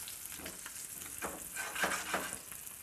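Fish frying in butter and oil in a pan gives a steady, moderately quiet sizzle, with a few soft stirring swells rising through the hiss and no talking.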